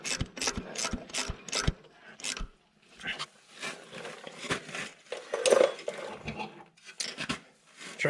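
Nuts being tightened on the exhaust manifold of an old blue vehicle, with quick ratchet clicks in a fast burst at first, then metallic scraping and clinking of tools close by.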